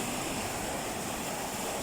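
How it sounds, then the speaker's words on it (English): Ocean waves wash up onto the shore in a continuous broad rush of surf, steady and fairly distant, with no distinct breaks or voices. "The waves come right up this way."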